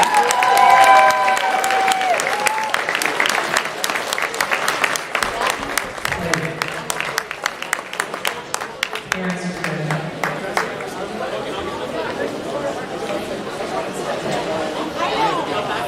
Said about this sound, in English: Let's give one more big round of applause to our seniors.